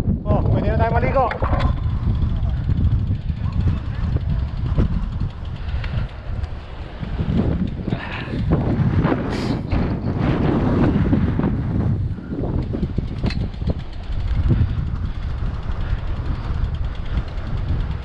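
Gusty wind by the sea at Whitby near the lighthouse, a loud, continuous rumbling buffet of the microphone, with occasional voices half-buried under the roar.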